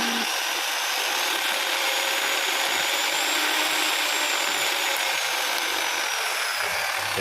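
A handheld porting and polishing rotary tool runs at high speed, a loud steady whine with a broad hiss that holds constant throughout.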